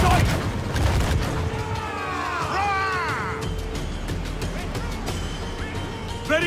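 Ship cannon fire in the naval combat of Assassin's Creed 4 Black Flag: booming volleys of shots crackle amid sea and game ambience, with crew voices shouting over the action.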